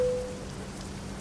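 Steady rain patters on the cab and surfaces of a truck in American Truck Simulator, a dense, even hiss with a low rumble beneath and no voices.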